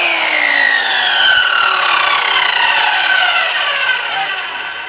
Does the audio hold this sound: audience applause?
no